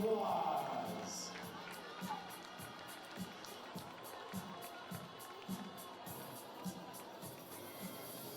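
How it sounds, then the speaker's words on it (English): A faint, distant crowd fills a school gym during a basketball game, with scattered cheers and soft thuds under a low murmur. "Give them a nice round of applause."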